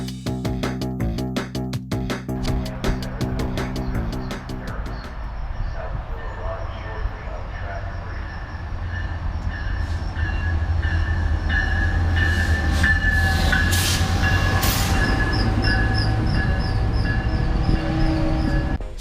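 A Metrolink train rumbles past close by, its steady roar and rattling wheels building and holding, with a few brief horn-like tones and some speech underneath.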